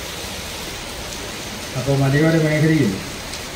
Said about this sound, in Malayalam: നല്ല മഴയാണ്.